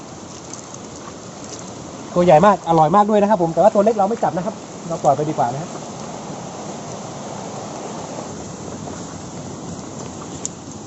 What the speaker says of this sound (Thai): ตอนนี้ฝนตกนะครับ เห็นสายฝนนะครับ